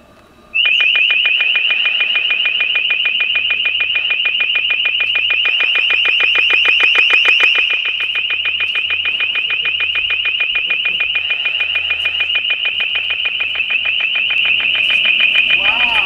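A very loud, piercing electronic warning tone from an LRAD acoustic device pulses rapidly and continuously for about fifteen seconds after a quiet start.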